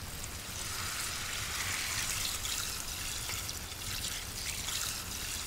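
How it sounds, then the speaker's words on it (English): Water trickles and pours steadily into a pot of seasoned smoked pork picnic and ribs with paprika, a continuous close splashing stream with no talk. "We add the water because we don't want to burn the paprika."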